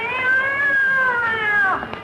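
A cat lets out one long, loud, wavering yowl as a radio sound effect after its tail is stepped on, the cry sliding in pitch before breaking off near the end.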